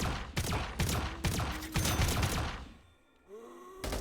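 Rapid bursts of AK-47 fire in the VRChat video game, a dense string of loud cracking shots for about three seconds, then a brief lull before another shot.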